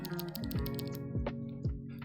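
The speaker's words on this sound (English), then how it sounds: "Yeah, it's a clicky switch." Clicky Outemu Blue switches on a Nyquist keyboard, a handful of sharp, crisp clicks pressed at an uneven pace over a steady background hum, close and fairly quiet.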